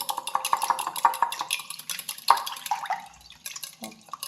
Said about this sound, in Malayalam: മുട്ട എടുത്തു, നല്ലപോലെ ബീറ്റ് ചെയ്ത് എടുക്കണം.